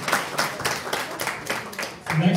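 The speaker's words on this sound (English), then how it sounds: "A round of applause for Troy." An audience applauds a speaker at a live product-building event, a burst of clapping from a crowd that surges and fades over a couple of seconds.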